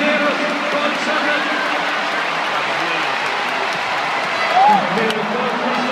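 Stadium crowd at an athletics meeting in Rome, a 400 m hurdles race, producing a steady wash of roaring and applause throughout, with an excited commentator speaking over it.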